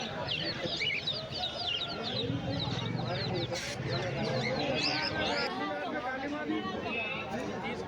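Chickens and roosters at the Erragadda Sunday market, including aseel birds, clucking and calling continuously under dense crowd chatter and nearby talking, with a brief louder squawk midway.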